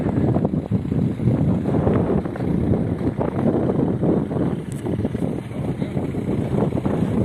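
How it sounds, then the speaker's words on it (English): Strong wind buffets the microphone outdoors in a park in Galicia, northern Spain, a steady loud low rumble that runs throughout with no break and no talk. "This wind is just crazy."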